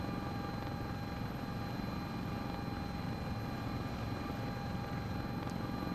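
Steady, continuous drone of an S-76 helicopter's rotor and turbine engines in Microsoft Flight Simulator 2024, an even whine with constant low thumping, unbroken for the whole stretch.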